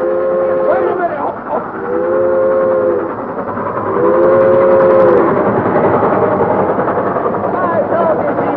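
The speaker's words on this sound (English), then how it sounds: "Well, stop the train." A train rumbles steadily beneath a whistle that sounds in several drawn-out blasts, the engine noise swelling louder toward the end, fairly close and continuous.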